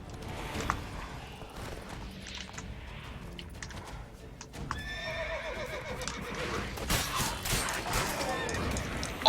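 Roach, the horse in The Witcher 3, neighs and whinnies over a steady background of game ambience, with clip-clop hoofbeats building toward the end as she breaks into a gallop.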